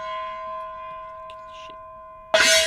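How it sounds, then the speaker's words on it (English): A double gong sound effect, a sustained metallic ringing tone that decays slowly and is cut off by a sudden loud noise burst near the end, with faint murmurs underneath. "the old double gong"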